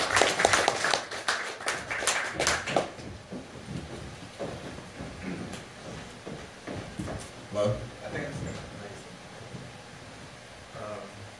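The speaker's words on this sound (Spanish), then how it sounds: "Un aplauso para David Rojas" Audience at an evening poetry reading in a gallery claps for the first poet, a loud burst of applause in the opening seconds that thins out, followed by someone speaking over a quiet room.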